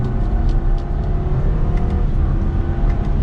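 BMW X3 sDrive30i in Sport Plus mode accelerating after a downshift, a steady, loud engine drone and road whir filling the cabin throughout without breaks.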